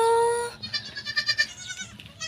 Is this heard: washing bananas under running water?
no